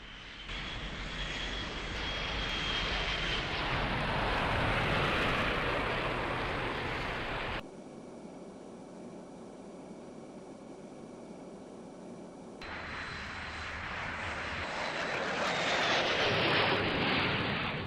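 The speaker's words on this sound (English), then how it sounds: "Throttles to full military power." Jet aircraft engines roar at full military power for takeoff in a flight combat video game, a loud broad rush that drops to a quieter hum mid-clip, then swells again.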